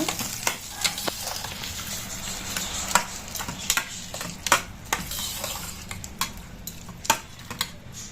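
Curd rice with mango is mixed by hand or spoon in a bowl, making soft, close, wet squelching and scraping with scattered light clicks against the dish.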